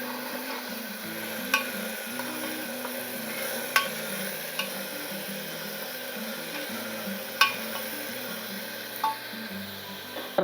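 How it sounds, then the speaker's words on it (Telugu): Ginger, onion and cumin fry in a pan with a steady low sizzle, close by, broken by occasional light clinks of a stirring spoon against the metal. "అల్లము ఉల్లిగడ్డ, జీలకర్ర అవి 3 వేసుకున్నాం. బాగా వేగినాయి."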